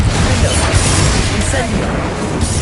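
Bombarda and Confringo spell blasts from Hogwarts Legacy, a dense run of booming impacts and crashes layered over a steady roar, loud and continuous with no clear gaps between bursts.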